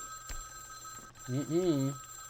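A telephone ringing in the Vampire the Masquerade: Bloodlines haunted hotel, a faint electronic ring early on, then a voice speaks over a steady background tone.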